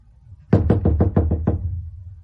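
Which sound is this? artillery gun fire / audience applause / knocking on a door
knocking on a door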